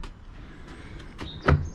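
A Land Rover Evoque door handle is pulled a few times, giving short dull mechanical clicks and clunks with a louder thunk near the end as the faulty latch fails to release.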